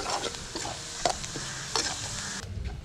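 Grated coconut with turmeric roasting in a pan over a wood-fired stove, a soft dry sizzle broken by scraping stirs and light clinks, close and fairly quiet, no talk.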